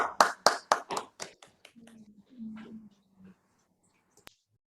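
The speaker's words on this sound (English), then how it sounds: "give all our contestants a round of applause" A few people clap for speech contest contestants, loud close claps that thin out quickly into scattered taps, followed by a brief low murmur and a single sharp knock before silence.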